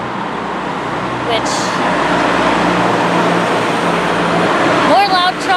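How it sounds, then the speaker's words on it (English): Heavy trucks and other traffic roll past on a main road through a town, a loud steady roar close by with a brake squeal near the end, while people walk and talk alongside. "More loud trucks."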